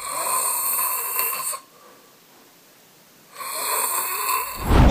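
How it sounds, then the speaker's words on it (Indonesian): Loud snoring from a sleeping man whose nasal passages were damaged in a car accident, two long heavy snore bursts separated by a quiet pause, close and harsh, with a short snort-like rise at the end. "Dia tuh sering ngorok lah dengan begitu kerasnya pas lagi tidur."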